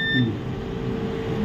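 A multimeter's steady continuity beep holds for about a second and a half over a faint low hum, with no talking, while testing a MOSFET on an HP laptop motherboard.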